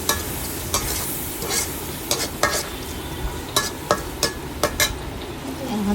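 Onions fried in oil with salt, turmeric and chili powder, stirred in a pan for bottle gourd with prawns, give a constant sizzle broken by repeated sharp scrapes and clinks of the spoon, which grow frequent toward the end.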